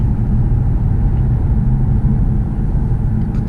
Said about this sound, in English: if you hear a lot of tire noise, that's not the car, it's just the tires